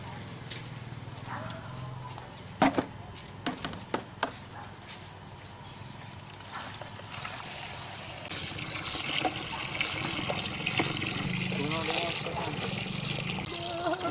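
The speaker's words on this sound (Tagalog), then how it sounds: "humana na puno na namo og tubig ang isa ka balde" Water pours from a tap or hose into a bucket, a soft trickle that swells into a steadier rushing stream partway through. A few sharp knocks come early, and faint voices may sit in the background.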